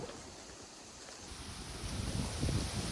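Strong, cold wind on Monte Cornetto in the Sengio Alto mountains, a rumbling gusting roar buffeting the microphone that swells louder toward the end, with no speech.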